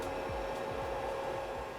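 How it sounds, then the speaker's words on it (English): A pet grooming vacuum kit, the IvittyPet HSCW03, draws a steady close suction whine with a constant motor tone and soft repeated low thumps as the dog's hair is pulled in, with no voices. "it basically gets sucked into the pet vacuum cleaner really easily"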